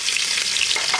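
Shrimp fry in a pan with onion over a village cooking fire, giving a steady, loud, unbroken sizzle that runs for about a second with no speech.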